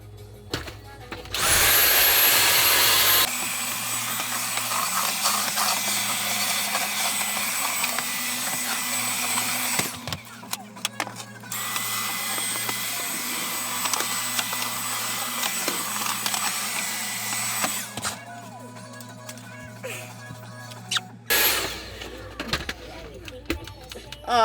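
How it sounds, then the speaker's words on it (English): A vacuum cleaner roars from underneath a converted bus, a steady loud drone that cuts in and out several times amid clunks and shuffling, with occasional voices. "Oh, the vacuum died."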